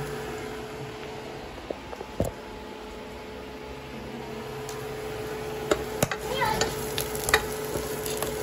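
Ingredients being sautéed in a pan for Indian Pond sinigang, a soft continuous sizzle with occasional stirring scrapes and clinks, fairly close.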